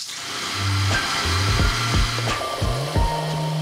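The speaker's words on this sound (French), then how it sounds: "je vais mixer le tout fortement pour obtenir une purée bien lisse et bien blanche" A blender purées celery with cider vinegar and butter, its motor whirring with a pitch that rises and dips while short chopping pulses recur every half second or so, fairly close and steady.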